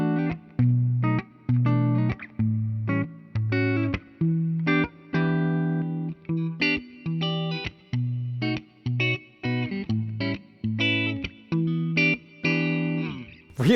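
Gibson Les Paul Professional electric guitar plays clean tones in a rhythmic pattern of repeated chords and single notes, each struck and briefly ringing before the next, loud and close with no talking.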